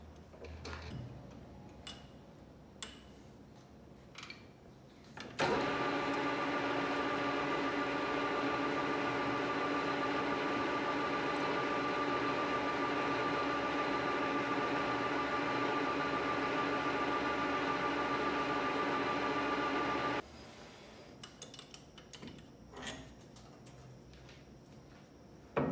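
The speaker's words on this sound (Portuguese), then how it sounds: "Agora eu vou usar uma broca de centro no mandril para fazer o primeiro furo de centro ali" A metal lathe runs a center drill held in the chuck, giving a loud, steady, even machine hum for about fifteen seconds, with quieter ticking and clicks before and after.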